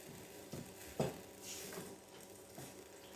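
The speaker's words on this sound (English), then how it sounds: "Just keep stirring it around." Melting brownie mixture is stirred around in a pan with the heat just turned off, producing soft scraping and occasional light knocks of the spoon against the pan, quiet and close with a faint sizzle underneath.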